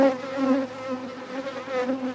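Honey bees drone inside an open hive during a detailed inspection, nurse bees among them, giving a close, sustained buzz with wavering pitch that swells and eases without pause.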